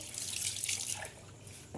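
Fish being washed under a running kitchen tap, a steady broadband splash and trickle of water continuing throughout with no speech.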